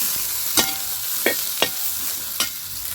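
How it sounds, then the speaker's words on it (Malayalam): Spice powders roasting in a hot pan for a lentil and vegetable curry, with a soft sizzle and four distinct scraping stirs at a steady pace, close up and without talk. "നല്ലോണം വറുക്കാം."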